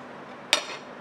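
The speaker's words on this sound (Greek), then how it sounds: "Το κουτάλι στις γωνίες." Metal spoon scraping the corners of a cooking pot holding a thick creamy mixture, a single short sharp scrape standing out over a quiet room background.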